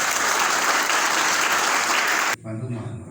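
Dense applause from students at a high school orientation session at SMA Negeri 4 Kabupaten Sorong cuts off abruptly and gives way to a voice speaking.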